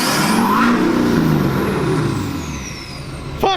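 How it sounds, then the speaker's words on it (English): An LML Duramax diesel pickup roars through a cold start and revs: a loud, steady, rumbling engine drone close by, swelling and easing slightly before settling, with a sharp clank at the very end. "we got Vaughan's fucking cold start here, bud."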